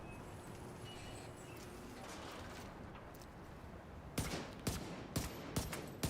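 Bursts of gunfire from a first-person game weapon, a run of sharp shots spaced about half a second apart near the end, over steady dusty background ambience.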